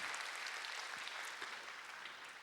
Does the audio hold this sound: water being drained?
no